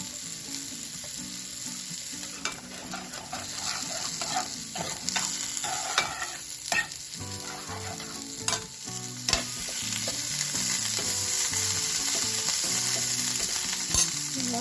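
A spoon stirs a sizzling potato and pea curry with tomato sauce in a frying pan, giving a steady close hiss of frying broken by repeated scraping and clinking strokes.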